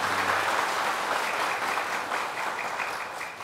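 Steady, dense applause from an audience at a Ministry of Health talk show in Purwakarta, Indonesia, filling the whole stretch at an even level and tapering slightly near the end.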